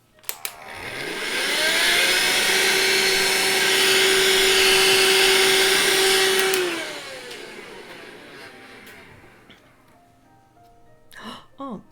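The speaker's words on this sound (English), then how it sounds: "I just need to vacuum this because I made a mess." A vacuum cleaner starts up, runs loudly with a steady whine for about six seconds, then winds down, followed by a few soft knocks.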